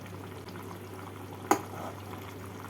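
Gravy of gathi kochu curry with potatoes bubbles in a pan as it reduces: a steady low simmer with soft liquid burbling and one sharp pop partway through. No voices.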